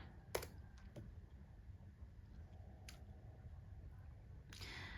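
Keys on a computer keyboard are tapped while entering a ping command at a command prompt, a few faint, sparse clicks over a low steady hum, recorded close but quietly.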